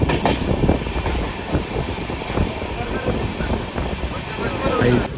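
Passenger train running on rails, heard from inside a carriage on a journey toward Jagannath Puri: a steady rumbling roll with faint rhythmic clatter, voices chatting over it.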